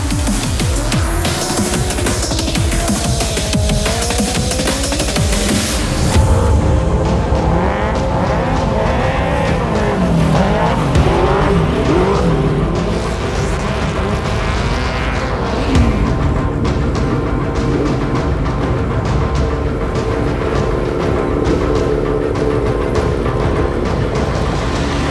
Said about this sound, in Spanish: empezamos a subir marchas en el enrabietado motor del prototipo GenCar de PCR Sport